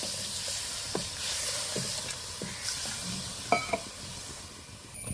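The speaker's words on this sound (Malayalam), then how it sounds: "ഇനി ഇതിലേക്ക് കുറച്ച് വെള്ളം ഒഴിച്ചു കൊടുക്കാം കേട്ടോ" Water is poured into a hot pan of tomatoes cooking down, bringing a steady close sizzle and hiss with a few scraping stirs and clinks.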